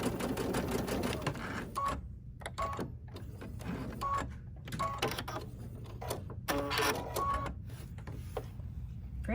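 An embroidery sewing machine stitches a Kimberbell mini pillow with continuous rapid mechanical chattering and periodic clicks and beeps, close and steady throughout.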